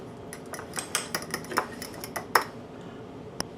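Spoon clinking and scraping against a bowl while cayenne and freshly ground black pepper are mixed into a seasoning, a series of sharp, close taps and clatters with no talking.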